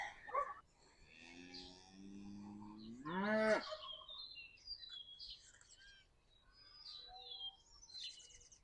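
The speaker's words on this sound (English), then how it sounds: "I'm over here with the pigs and Red and that cow" A cow moos loudly with a long rising call at a farm where pigs are kept, while small birds chirp and tweet faintly around it.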